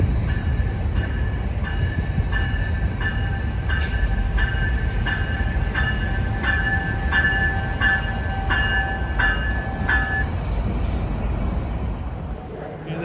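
A CPKC manifest freight train with autoracks at the back rolls past nearby, a loud steady rumble and rattle of wagons on the CN Kingston Subdivision in Ontario, with a ringing tone repeating over it before fading slightly at the end.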